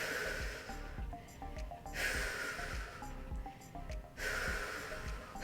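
A person doing an advanced core exercise for diastasis recti exhales in a few audible, breathy pushes, close and fairly loud, with background music underneath.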